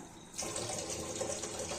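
A small splash of water is poured into spice paste for pakoras, starting abruptly and running as a steady, soft, close pour for under two seconds.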